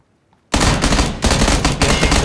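Rapid automatic gunfire erupts in a PUBG battle royale match after a brief silence, a loud, dense burst of shots with a short gap before the firing resumes and continues to the end.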